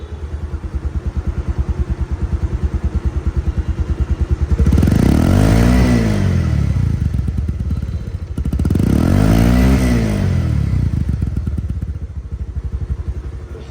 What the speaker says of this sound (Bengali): বাইকটি কিন্তু সাউন্ড সহ শোনালাম